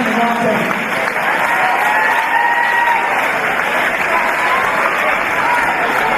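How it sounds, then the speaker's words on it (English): Loud, dense crowd applause with cheering fills an arena at the 2019 All-Star basketball grand final between Manly Warringah Sea Eagles and Central Coast Crusaders, a steady roar holding throughout with whistles and shouts rising above it. "Round of applause for the All-Star Final of 2019."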